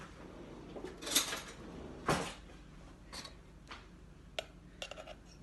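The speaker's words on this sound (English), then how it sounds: "I'm going to get another spoon here." Kitchen clatter while making cheese soufflé puffs: a spoon is fetched, with a few sharp clinks of cutlery against dishes and a drawer or cupboard knocking. The hits are scattered and fairly close over quiet room tone, with no talk.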